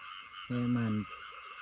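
A single frog gives a loud, close, buzzing croak lasting about half a second at night during a frog hunt, with steady insect-like night noise around it.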